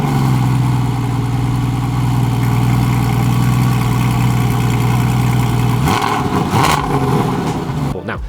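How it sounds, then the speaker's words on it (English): A modified Porsche 718 Spyder engine idles with a deep, steady rumble, then revs sharply in a couple of loud bursts near the end. "The sound on startup was incredible."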